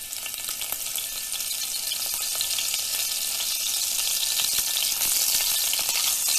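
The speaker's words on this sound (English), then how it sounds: "A pinch of cumin seeds to temper the oil." Cumin seeds and a chopped green chili sizzle steadily in hot oil in a pan, a dense, continuous crackling hiss that stays loud and even throughout with no talking.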